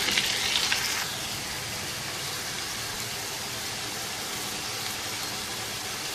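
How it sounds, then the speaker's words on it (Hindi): Ginger garlic and onion paste frying for chicken karahi, a steady close sizzle that is a little brighter at the start, then settles into an even hiss with no voices. "जिंजर गार्लिक को 3-4 मिनट फ्राई करने के बाद इसमें ये अनियन पेस्ट शामिल कर देंगे और इसको 3-4 मिनट कुक करेंगे"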